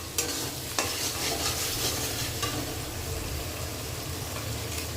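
Mutton being stirred with spices in a hot pan, a steady loud sizzle and fry with a couple of sharp scraping knocks of the spoon early on, no voices.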